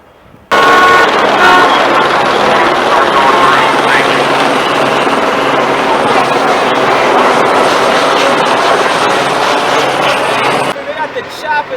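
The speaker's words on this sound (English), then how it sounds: "They got the choppers out there." Police helicopters flying over a city street after riots in Baltimore, a loud, continuous broad rotor roar mixed with street noise and possible car horns, lasting almost the whole time before cutting off abruptly near the end.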